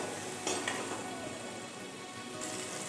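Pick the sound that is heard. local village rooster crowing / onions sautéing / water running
onions sautéing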